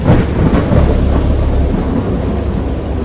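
Deep rumbling thunder rolls continuously with rain hissing underneath, loud and close, no voices.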